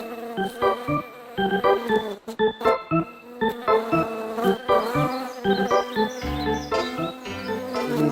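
Agitated honey bees swarm around an urban hive in Paris, a dense, close buzzing that pulses in uneven bursts as individual insects whirl past, loud and continuous without any talking.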